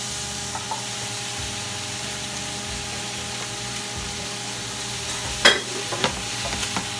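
Bok choy leaves sizzle in a frying pan with garlic, a steady frying hiss close by, with a few sharp clatters of stirring near the end.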